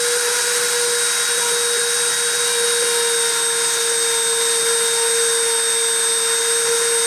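A deposition machine running with its spindle on, giving a loud, steady mechanical whine with a constant tone and high harmonics, unbroken throughout, no voices.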